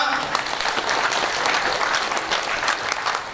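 Audience at a regent candidate debate in Aceh Barat breaks into brief, loud, dense clapping that fills the room.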